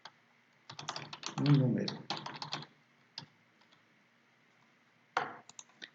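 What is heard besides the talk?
typing on a computer keyboard while writing code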